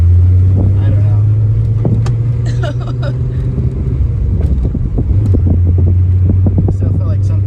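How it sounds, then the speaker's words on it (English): A Volkswagen Golf MKIV R32 runs and drives, its engine holding a steady low drone with a brief dip in the middle, while people talk over it and light knocks and clicks sound from the cabin. "the car runs."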